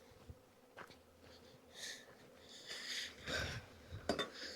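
Honeybees in a breeder hive buzz faintly around the frames, with soft rising swells of wing noise and a few light knocks and clinks of hive equipment.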